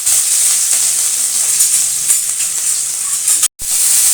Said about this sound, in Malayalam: ചട്ടി വെച്ച് എണ്ണ ഒഴിച്ചിട്ടുണ്ട് ഇനി നമുക്ക് ഇഞ്ചി വെളുത്തുള്ളി ചതച്ച് ചതച്ചത് ഇടാം